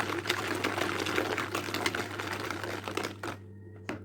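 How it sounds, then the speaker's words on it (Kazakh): Liquid oil stirred into an egg and sugar cookie batter, giving a steady wet churning and sloshing that runs close and fairly loud for several seconds before dropping away to near quiet. "Сұйық майды құйған соң жақсылап араластырамыз."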